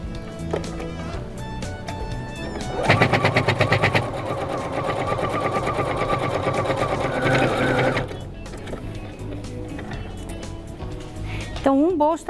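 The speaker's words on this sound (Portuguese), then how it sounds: "E vou costurar esse meu fundo aqui." Sewing machine stitching the bottom of a fabric makeup holder, a fast, loud mechanical whirr in one sustained run of about five seconds, with quieter handling noises and a voice talking before and after.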